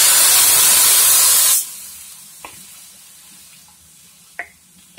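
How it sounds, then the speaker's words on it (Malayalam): Mutton stock is poured into a pan of browned onions. A loud burst of hissing steam and sizzle lasts about a second and a half, then drops to a quiet simmer with a few faint clinks. "ഇതിലേക്ക് നമുക്ക് സ്റ്റോക്ക് ഒഴിച്ചു കൊടുക്കാം"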